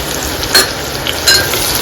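Chopped onion hits hot oil in a pan for prawn masala and fries with a steady close sizzle, two brief louder bursts of crackle marking stirring, and no talking.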